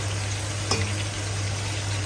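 Spicy chicken cooking in a pot on the stove, giving a steady, even sizzle and simmer that holds at one level throughout with no voices.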